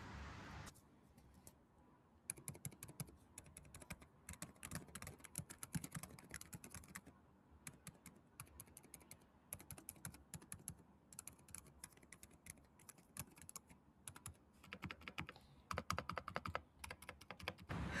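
Continuous soft typing on a Keychron K10 wireless keyboard with red switches, muted keystrokes clicking in quick irregular bursts, close up, with no talking.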